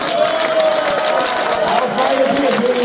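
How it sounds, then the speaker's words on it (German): Crowd at a beer cellar festival season opening applauding and cheering steadily for the crowning of the beer queen, a dense continuous wash of clapping with voices mixed in throughout. "Einen großen Applaus auf die Töchter Pforzheims!"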